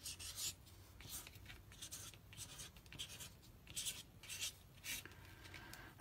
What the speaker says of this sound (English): I can come back with my fine point side and draw some, or even write some words